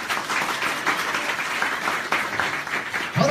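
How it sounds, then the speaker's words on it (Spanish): A conference audience gives a round of applause, steady medium-loud clapping from a crowd that continues for a few seconds. "un aplauso para Amazon."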